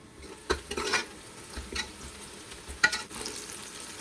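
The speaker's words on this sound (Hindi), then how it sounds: "आधा कप ऑयल का डालेंगे और इसमें स्लाइसिस किया हुआ प्याज डाल देंगे और गोल्डन ब्राउन होने तक कुक करेंगे।" Sliced onions frying in half a cup of oil in a pan, a soft sizzle under intermittent stirring scrapes and light clatter, fairly quiet and close.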